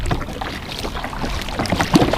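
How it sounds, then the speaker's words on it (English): Wind blows at Lake Kurwongbah, giving a loud, gusty rumble across the microphone with faint water movement and a brief knock near the end. "The wind is not so great"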